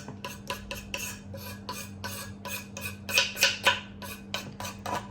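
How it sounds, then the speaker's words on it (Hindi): Shami kebab mixture with green chillies, coriander and mint is mixed by hand in a bowl, making a steady rhythm of close scraping, rubbing strokes, roughly two or three per second, with no talking. "और इन सबको डाल के भी मैं इसको अच्छे से मिक्स कर दूँगी।"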